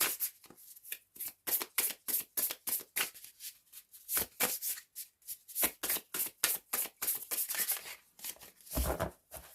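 Tarot cards being shuffled in a fast run of crisp riffles and flutters, close and fairly loud, with brief pauses between bursts and a final heavier riffle near the end.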